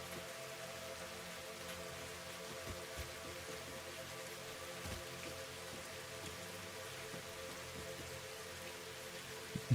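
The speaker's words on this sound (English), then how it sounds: "I didn't actually know the rain was that detailed." Steady rainfall in the video game Satisfactory, a continuous hiss of drops on surfaces at low level with occasional sharper ticks, no voices.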